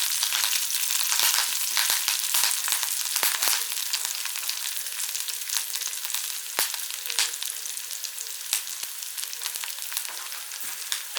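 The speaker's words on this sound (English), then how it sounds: "Now we just let this cook for about a minute to get the flavour into the oil." Oil sizzles steadily in a pan as aromatics infuse it before monkfish goes in, a dense, continuous frying hiss with scattered crackles and pops close by, no voices.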